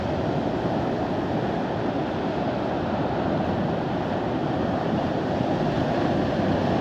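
High ocean waves roar continuously where the Wangpi River meets the sea near Uljin, a steady broadband wash of surf mixed with wind buffeting the microphone, with no voices.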